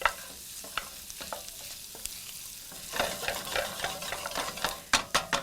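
Shrimp sizzle in a hot pan for shrimp scampi, a steady close crackle with scraping and stirring that grows busier, ending in a few sharp utensil taps.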